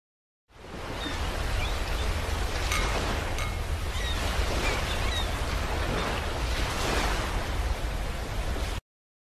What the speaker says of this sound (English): then add sea sound with seagulls